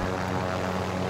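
Helicopter armada killstreak in Call of Duty Warzone, a loud, dense, continuous roar of aircraft rotors and engines overhead, with no talk.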